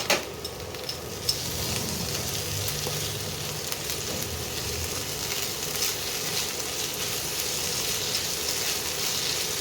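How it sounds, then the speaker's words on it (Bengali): Ginger and garlic paste frying in a pan, a steady close sizzle and crackle that runs without a break, with a couple of faint clicks at the start. "কাঁচা গন্ধটা একটু যাবে ততক্ষণ একটু ভাজতে হবে আদা রসুনে"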